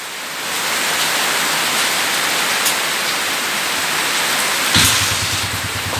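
A Honda TMX155 motorcycle with a very noisy engine starts during heavy rain; a loud hiss of rainfall dominates until the engine catches near the end, settling into a low, rapid pulsing idle beneath the downpour.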